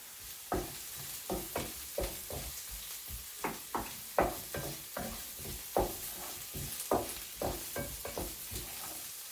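Curry leaves hit hot oil for a jackfruit sundal, giving a soft, quiet sizzle broken by a steady rhythm of stirring scrapes and taps against the pan.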